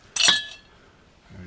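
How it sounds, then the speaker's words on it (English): A sharp metallic clink rings out as a cut-through headstock bearing is pushed off an Aprilia RSV1000R Factory motorcycle, then a brief hush follows and a faint low sound rises at the end. "Then what I need to do is to push the cut through bearing off."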